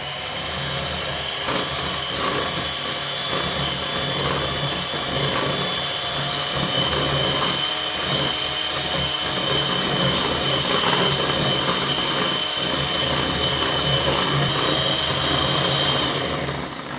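Electric mixer whipping egg whites for meringue cookies, a steady dense whirring and rattling drone with a slight rise in intensity toward the end, close and loud with no talking.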